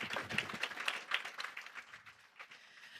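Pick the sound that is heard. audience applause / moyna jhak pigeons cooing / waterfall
audience applause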